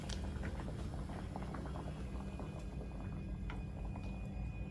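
Egg curry gravy with drumstick and tomato simmers on a low flame, giving a steady, soft bubbling patter that runs close and continuous throughout with no talk.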